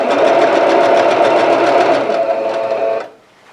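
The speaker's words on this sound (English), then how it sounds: "just keep sewing your strips together and let them join like this" Steady, loud whirring of a sewing machine stitching jelly roll quilt strips together, running continuously for about three seconds before abruptly stopping, with no voices.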